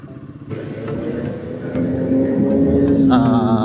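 A Kawasaki motorcycle rides along a rough city road, its engine rumbling steadily and rising in pitch as it accelerates through gear changes, loud and close, with a sharper rise near the end.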